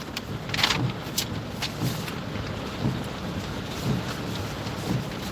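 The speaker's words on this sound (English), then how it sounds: "Yeah, nice rainy weather." Steady rain falling outside in rainy weather, a constant broadband hiss with a few louder gusts or spatters and faint low rumbles, fairly close and without talk.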